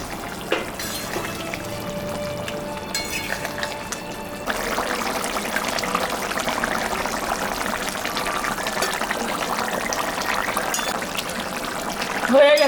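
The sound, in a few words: katla fish added to boiling curry broth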